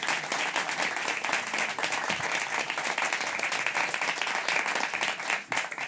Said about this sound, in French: Il s'agit de Jean-Paul André, qu'on peut applaudir s'il vous plaît.